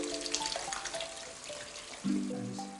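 Beef stock poured into a pan of spaghetti bolognese: a near, steady liquid splash and sizzle that swells suddenly partway through, then settles into a continuous wet hiss.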